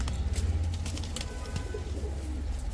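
Domestic pigeons coo in low, repeated throaty calls close by, over a soft background of other bird chirps.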